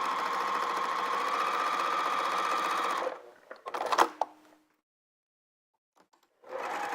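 A sewing machine quilting a holiday stocking at a 4 mm stitch length whirs steadily up close for about three seconds, then stops, followed by brief handling clicks, silence and a restart.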